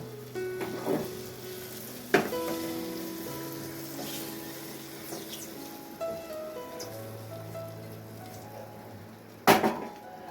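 Eggs dropped into hot korma gravy give a steady sizzle and bubbling with a few sharp clinks of utensils against the pan, close and moderately loud, no voices.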